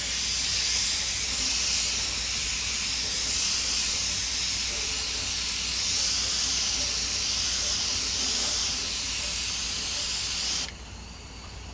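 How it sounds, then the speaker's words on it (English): Iwata airbrush spraying custom gold paint gives a continuous, loud, even hiss of air and paint that holds steady for about ten seconds, then cuts off abruptly, leaving a faint background hum. "And I love my Iwata airbrush."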